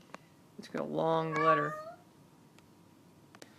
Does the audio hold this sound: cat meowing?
yes